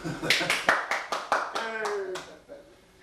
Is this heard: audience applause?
yes